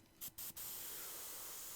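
Airbrush spraying paint through a stencil during a live painting session: a steady hiss of spray after two short bursts, continuing loud and unbroken to the end.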